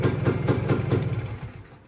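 A 55-year-old motorcycle engine runs with a rhythmic, pulsing chug at about four beats per second, close and moderately loud, then fades down as it dies out near the end.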